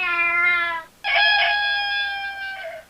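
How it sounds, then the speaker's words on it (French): A brief meow-like call is followed by a long, loud rooster crow that holds steady before trailing off, heard close with nothing else in the background. "criait le coq"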